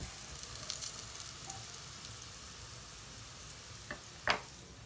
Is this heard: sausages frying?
yes